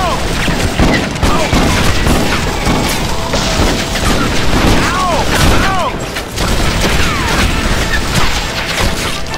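Gunfire rattles through a shootout in Red Dead Revolver, with dense overlapping shots and booms filling the whole stretch, loud and continuous, along with ricochet whines and mechanical clatter.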